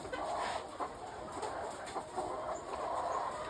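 Hens about 18 weeks old clucking on a poultry farm as they begin laying, faint scattered calls over a steady background hum.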